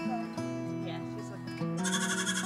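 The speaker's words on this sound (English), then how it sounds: "Brown one is a new baby goat." A new brown baby goat on a farm bleats in short, wavering cries that rise louder toward the end, close by, with a person talking over part of it.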